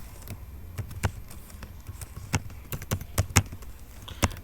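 Keys clatter on a computer keyboard while code for a Python list append method is typed, sounding as irregular bursts of close, sharp clicks with short pauses between.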